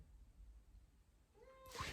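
A cat meows once indoors, a short rising call near the end over quiet room noise, followed by a brief rustling burst.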